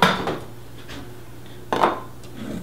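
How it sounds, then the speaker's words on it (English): A spatula knocks and scrapes around a mixing bowl of egg yolks and sugar for a flourless chocolate cake, two short clattering strokes separated by a quiet pause, close and alone. "Do this a little bit with the spatula, get around the bowl"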